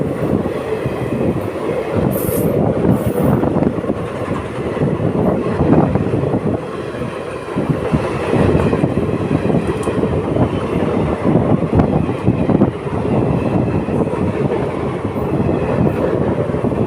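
A diesel passenger train travels on Indian rails between Samastipur and Lucknow, heard from inside as a loud continuous rumble with rhythmic clickety-clack of wheels over rail joints and occasional faint squeals.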